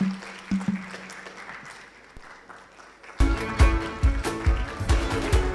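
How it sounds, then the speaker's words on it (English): At a World Standards Day event, quiet room sound gives way partway through to a sudden burst of audience applause, loud and close, many hands clapping vigorously to the end. "Big round of applause, ladies and gentlemen."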